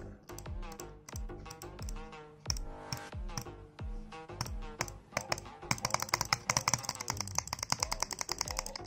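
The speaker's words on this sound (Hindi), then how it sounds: "ये क्लिक जो है इसका, इसको जब क्लिक करते हैं," An old, worn computer mouse clicks sharply, sparse at first and then in a rapid, dense run, with music playing underneath.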